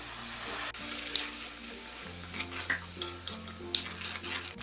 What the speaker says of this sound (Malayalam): ഈ അരച്ചെടുത്ത മിക്സിയുടെ ജാറിൽ 1/2 കപ്പ് വെള്ളം ഒഴിച്ചിട്ട് അത് ഇതിലേക്ക് ഒഴിച്ചു കൊടുക്കാം